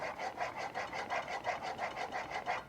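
The corners of a No 8 jointer plane blade are rubbed back and forth on a sharpening stone, a quick regular rasping rhythm of about ten strokes, close and even, with no talking.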